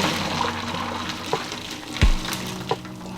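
Water from cooked pasta pouring out while draining, a steady rushing splash close by, with a couple of light clunks and a thud of the pot partway through.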